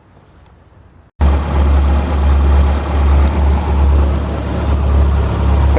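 Volvo 740 with a B230F four-cylinder idling through a MagnaFlow rear muffler and aftermarket catalytic converter, a steady deep rumble that kicks in abruptly after a quiet moment and holds close and loud, with someone briefly talking over it.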